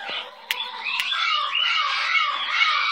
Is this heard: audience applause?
no